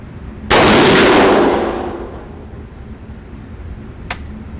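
A single loud, close .308 rifle shot from a PTR G3 clone cracks out and rings off in a long decaying echo, followed later by a faint metallic ping.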